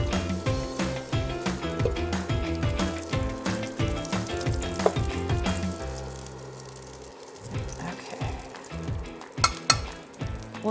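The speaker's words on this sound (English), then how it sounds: "We'll set this sausage aside and start sauteing our vegetables." Onion, celery and carrot mirepoix sautés in a soup pot after sausage has been browned, giving a continuous sizzle and crackle with occasional stirring clatter, close and moderately loud throughout.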